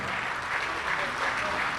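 An audience at a Hindi poetry gathering (kavi sammelan) in Kuwait applauds, a dense, steady wash of clapping close and loud from start to finish.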